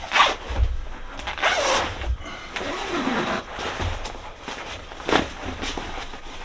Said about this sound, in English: So, undo the zip.